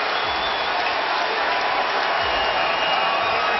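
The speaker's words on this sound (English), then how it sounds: "Standing ovation from this crowd here at Amway." An arena crowd at Amway gives a standing ovation during a playoff basketball game, a dense, constant roar of applause and cheering that holds steady at full strength throughout.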